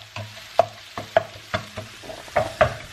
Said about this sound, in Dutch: Dit komt uit de vriezer en staat nu denk ik 3 minuten te bakken ofzo.